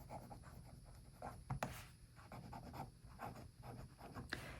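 A Pelikan M800 fountain pen with a medium nib scratching across paper, soft intermittent strokes with a couple of sharper taps, close and faint.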